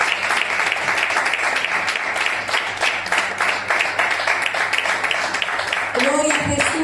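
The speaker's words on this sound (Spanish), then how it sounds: "hágale fuerte las palmas a Cristo" A church congregation claps loudly and steadily for Christ during a sermon, dense applause that fills most of the stretch before a voice cuts in near the end.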